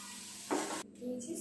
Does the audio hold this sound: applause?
no